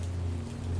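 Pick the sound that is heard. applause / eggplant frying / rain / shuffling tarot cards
rain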